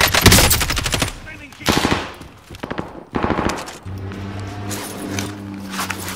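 Automatic gunfire in the video game Warzone crackles in loud, rapid bursts separated by short pauses, up close, with voices talking during the action.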